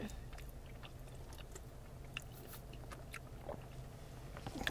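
Macaroni being chewed close to the mic during a burger-bar mukbang, with soft, wet, repeated chewing sounds and a few faint crunches over a quiet, low background.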